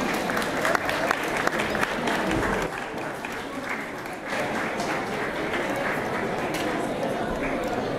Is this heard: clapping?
yes